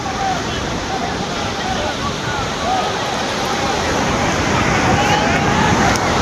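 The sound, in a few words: sea waves breaking on the beach at Puri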